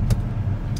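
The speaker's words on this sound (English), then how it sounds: "there's traffic" Steady low rumble of road traffic with cars passing nearby on the way to an NFL game in Los Angeles, continuous engine drone with brief hiss bursts of a passing vehicle.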